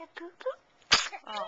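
A short, sharp sneeze bursts out once between bits of soft speech, with a voice talking just before and after it.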